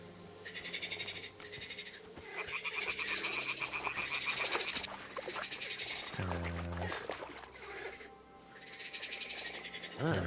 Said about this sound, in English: The toads are croaking here.